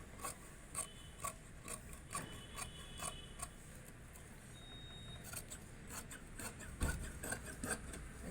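Scissors snipping through blouse fabric on a cutting surface, a run of faint, quick crisp clicks and rasping cuts in irregular bursts, close up with no talking.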